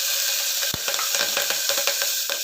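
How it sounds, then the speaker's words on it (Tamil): Green chili hits hot oil already crackling with mustard seeds and cumin for a spinach and moong dal dish, giving a close, steady sizzle with a sharp pop at the drop and small spatters throughout. "இப்போ பச்சை மிளகா போட்டுக்கலாம்"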